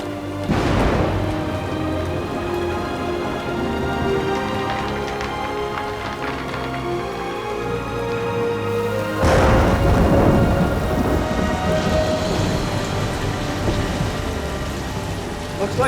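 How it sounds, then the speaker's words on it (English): Heavy rain pours steadily and loudly during a flood, with a deep thunder crash near the start and another louder rumble at about nine seconds, the downpour continuing under both. "Yeah, I know it's raining."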